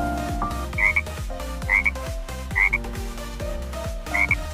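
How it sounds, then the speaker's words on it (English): A frog croaking in a steady repeating rhythm, with four or five loud, close croak calls set over a looping musical backing, and no voices. "frog."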